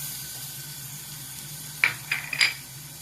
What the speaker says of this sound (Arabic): غادي ندير تقريبا واحد 2 ريوس ديال الثوم نديروهم يتقلاو لينا مع